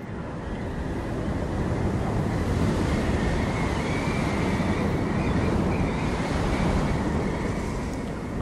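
Wind blows steadily in the video game Journey, a broad, constant rushing hiss that stays even and fairly loud for about eight seconds with no voices over it.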